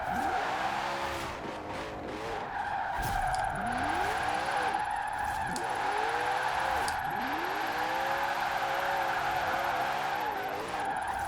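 Koenigsegg supercar in the racing game Forza Horizon 4 drifting, with a loud continuous engine drone rising and falling through gear changes under sustained tire squeal, steady throughout.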